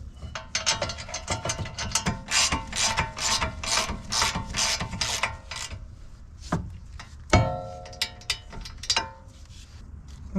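A ratchet wrench clicks rapidly as it snugs brake caliper bolts on a Mazda CX-5 rear brake, a close run of regular metallic ratcheting followed by a few scattered clunks and one sharp knock.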